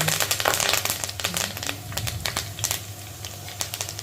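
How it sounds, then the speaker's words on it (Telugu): Curry leaves crackle and sizzle in hot oil with mustard seeds, cumin and fenugreek, tempering for a ginger pulusu; a busy stream of close, sharp pops and spits over a steady low hum, with no talking. "కరివేపాకు వేసాను"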